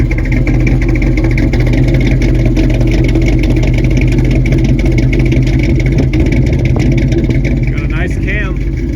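A restored 1989 GMC Jimmy with a 350-horsepower crate 350 V8 runs loud and steady from close by, a deep continuous engine rumble that holds for the whole stretch with no clear break.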